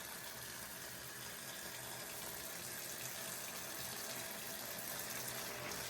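Hot water runs steadily from a kitchen sink tap, a constant close rushing hiss with no pauses, alone without talk.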